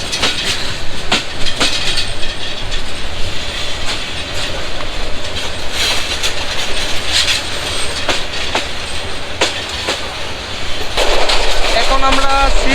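Passenger train, the Mohanganj Express, running on rails in Bangladesh, heard from on board as a loud continuous rumble with repeated clickety-clack beats of the wheels over rail joints and a brief squeal near the end.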